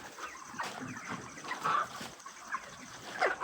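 Broiler chickens, about 42 days old and near 2.3 kg, cluck and chirp softly at a poultry farm, a dense murmur of scattered calls over a steady low hum.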